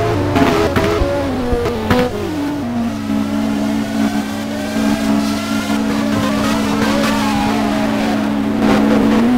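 A Formula 1 race car enters the pits at Monaco in an F1 19 racing game mod, its engine whining loudly and slowing into a steady high drone, with a few sharp clicks and bursts early on.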